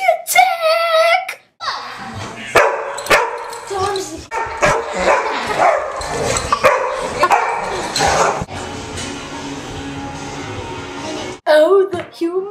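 A dog barks and yips repeatedly up close, mixed with excited voices and some whimpering, busy and loud throughout.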